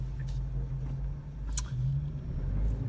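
An SUV drives by on a street, a low engine hum and tire rumble rising and easing at moderate distance, with faint background noise and no talk.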